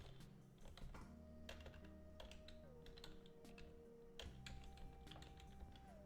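Typing on a computer keyboard held sideways gives faint, irregular clusters of light key taps over a low steady hum, with no voices.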